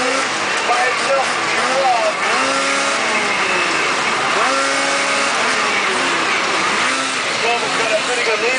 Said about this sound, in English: The fastest car is cruising on hill all by itself.